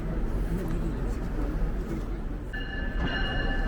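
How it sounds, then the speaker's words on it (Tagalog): A passenger train rumbles steadily into a station, a constant low roar with a brief high squeal of brakes near the end and no talk over it. "Nabangan po natin yung ating tren. Ayan, paparating na po."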